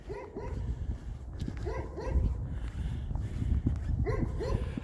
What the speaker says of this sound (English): everybody's dog is outside barking today.